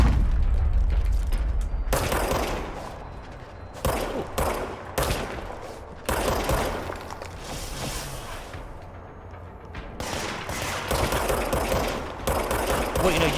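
Enemy gunfire in the action game Control, with repeated loud bursts of automatic fire and heavy shots that come in clusters, broken by brief lulls, over layered game effects.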